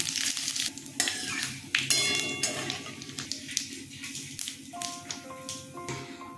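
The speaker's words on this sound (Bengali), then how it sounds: "শুকনো লঙ্কা, তেজপাতা, জিরে ফোড়ন দিয়ে দিলাম" Dried red chillies, bay leaf and cumin seeds crackle and sizzle in hot oil left from frying lentil fritters, a steady close sizzle with scattered pops, light utensil taps and stirring scrapes throughout.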